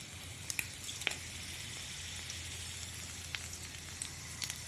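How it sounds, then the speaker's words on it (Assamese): Two dried red chillies drop into hot mustard oil, giving a faint, steady sizzle with a few small pops and crackles scattered throughout. "তেল দি দিম মিঠা তেল তেলখিনি গৰম হোৱাত মই ইয়াতে দিম দুটা শুকান জলকীয়া"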